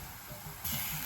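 Onions cooking in a pan for a dal curry give a soft, continuous sizzle and hiss, fairly faint, with a slight rise in intensity partway through and no talking.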